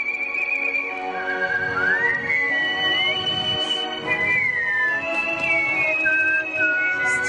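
A person whistles a tune with sliding, wavering pitch and several pauses between phrases, a faint murmur of voices and room noise underneath.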